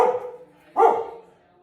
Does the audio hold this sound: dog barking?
yes